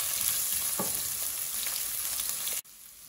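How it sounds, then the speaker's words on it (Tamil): Sliced onions hiss and crackle in a pan while being stirred for Burmese khao suey masala noodles, a loud, steady sizzle that cuts off abruptly near the end, leaving only faint background. "ஆனியன் ஆட் பண்ணிவிட்டு ஆனியன் மிக்ஸ் பண்ணுங்க."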